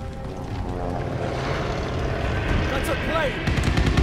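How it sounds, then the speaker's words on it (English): A propeller plane roars overhead in the World War II shooter Call of Duty Vanguard, a loud, steady engine drone that builds slightly under game effects and voices. "That's a plane!"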